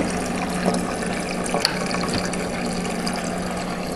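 Aquarium power head pushing water through a hang-on-back refugium on a reef tank, a steady close rushing and bubbling flow with a few small splashes, no talking.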